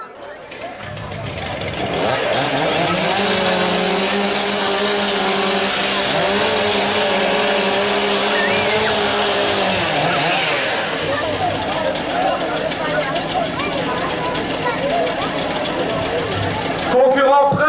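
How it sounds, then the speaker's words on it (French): Chainsaws revving together during a 15-second warm-up at a Stihl Timbersports competition in Schirrhein, France, a loud sustained buzzing whine that holds steady for several seconds then drops away, followed by crowd noise and an announcer's voice over a loudspeaker. "15 secondes de warm-up pour les tronçonneuses."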